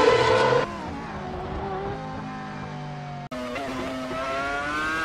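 Williams FW26 Formula One car in Assetto Corsa at the Nürburgring GP circuit, engine wailing loud and close with a brief tyre skid as the car spins after dipping a wheel on grass, then a sharp cut and a steady revving drone.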